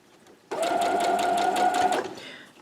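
A sewing machine stitches a quilt block seam in a fast, steady whir that starts abruptly, runs for about a second and a half, then winds down, close and loud with no talking.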